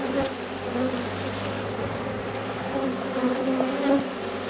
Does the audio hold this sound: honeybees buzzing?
yes